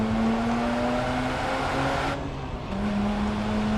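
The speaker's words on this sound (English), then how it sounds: "So I'm gonna put the car through this section of turns right here" A Mazda RX-8 is driven hard through a section of turns starting in second gear, its engine droning loud and steady with pitch shifts as it works the corners, nearby and alone with no talk.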